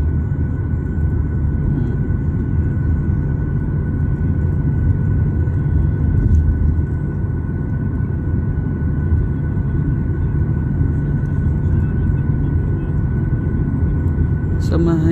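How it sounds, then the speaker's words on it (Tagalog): A passenger airplane's engines rumble steadily before takeoff, a loud, unbroken low roar with a faint whine above it that persists throughout, ending with a brief sharp click. "Gusto ko kasi siyang kunan ng video hanggang sa makalipad, umangat tong eroplano na to"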